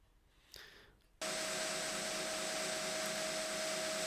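A belt grinder fitted with a 36 grit belt starts up and grinds a knife tang under firm pressure, a loud, steady abrasive whine with a constant hum that begins after a short quiet moment and runs without a break.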